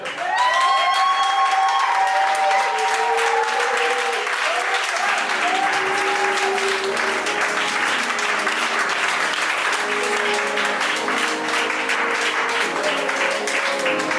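A church congregation applauds and cheers continuously, a dense roar of clapping that stays loud throughout, with sustained sung or shouted tones from the crowd rising above it.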